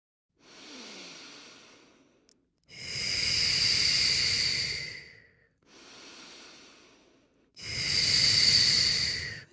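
Slow, heavy breaths during a Pilates mat exercise, with two quieter hissing exhales alternating with two louder, longer ones, close and alone in a quiet room.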